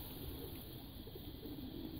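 Pigeons coo softly in the grounds of Wat Umong temple in Chiang Mai, a faint, low murmur under steady outdoor ambience with no talking.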